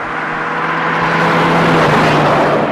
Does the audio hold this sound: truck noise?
yes